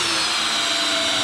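A DeWalt DCD708 20V brushless compact drill in drill mode drives a 3-inch screw, giving a loud, steady high-pitched whine that holds without a break.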